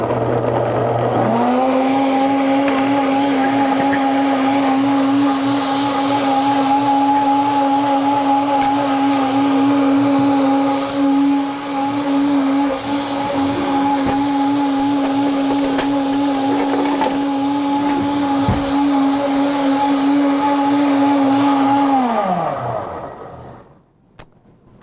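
A kitchen blender whizzing up holiday loaf ingredients, a loud steady motor whine held for about twenty seconds after a brief start, then cutting off and winding down at the end.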